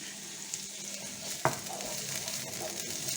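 Food sizzles quietly in a pan as it is stirred, with soft scraping and one sharper clack of a utensil partway through, and no voices.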